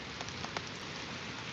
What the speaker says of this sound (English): just a lot of rain